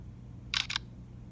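A camera shutter fires once as a picture is taken, a crisp two-part click, close and brief over a low steady hum.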